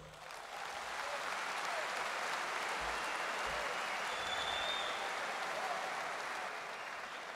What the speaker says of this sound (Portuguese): Agora quero que mantenham essas palmas aqui para o nosso anfitrião, Fernando Rocha